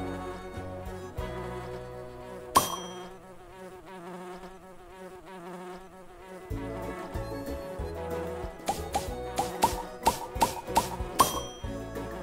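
Cartoon bee buzzing in the Nature Cat video game Pollinator Pathway, a soft steady drone under bright game music with chimes and plinking notes, growing busier and more percussive toward the end.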